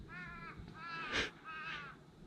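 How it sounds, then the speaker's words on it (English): Crows caw outdoors in a short burst of three harsh, nasal calls at moderate distance, fairly faint, with a low wind-like rumble underneath. "the crows are like just like making so much noise"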